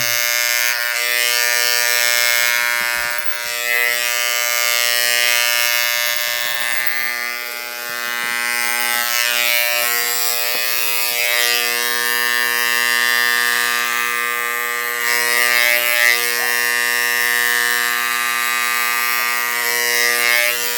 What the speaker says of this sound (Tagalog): Napurol ang aking shaver.